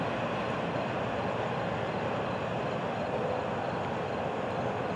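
Florida East Coast Railway train FEC 101 passing nearby as a steady, broad rushing roar with no voices, holding an even level throughout.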